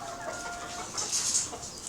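A backyard chicken clucking softly at a distance, a few short calls standing out midway over steady background noise, with no talk.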